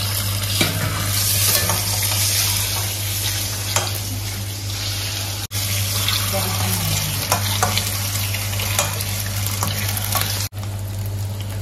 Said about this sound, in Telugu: ఇప్పుడు బాయిల్ చేసుకున్నాం కదా ఎగ్స్, అవి ఆల్రెడీ పొట్టు తీసేసుకున్నా. ఇప్పుడు ఇంట్లో వేసి ఫ్రై చేసేసుకోవడమే.